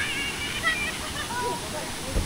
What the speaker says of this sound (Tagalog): doon sa baba yun ang bagsak ng tubig